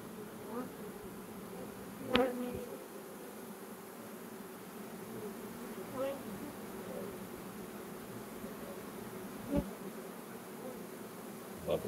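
Honey bees buzzing steadily at close range while a virgin queen is introduced to the colony, a continuous soft hum with a few faint clicks and knocks.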